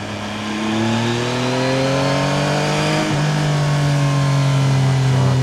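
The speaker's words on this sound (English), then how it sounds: "This bike sounds amazing, man." A 2025 Yamaha MT-09 motorcycle engine revs loudly inside a tunnel, a strong steady drone with rising and falling pitch that swells as the throttle opens and echoes off the walls, no talking.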